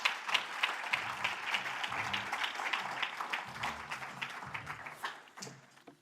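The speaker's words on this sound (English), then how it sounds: "Clap it up for Coach Steve Sparks" An audience claps for a coach at a school sports awards ceremony, a quiet, scattered applause with individual claps standing out and tapering off toward the end.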